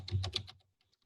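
A quick burst of typing on a computer keyboard, several close, crisp key clicks in the first half second and then fading to a few faint taps.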